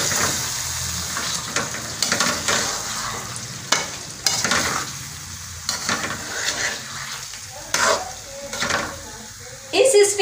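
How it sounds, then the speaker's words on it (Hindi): Biryani masala frying and being stirred in a pan: a constant sizzle broken by repeated scraping, stirring strokes at an uneven pace, heard up close. "इसमें अब हम बिरयानी मसाला शामिल करेंगे। इसको हमने अच्छे तरीके से भूनना है"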